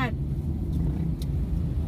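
Low, steady hum of a car sitting in heavy traffic near a market, a continuous drone with a faint brief voice and small passing noises over it.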